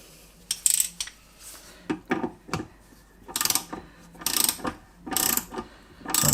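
A ceramic valve is tightened into a kitchen tap, producing rhythmic metallic ratcheting clicks in several close, crisp bursts.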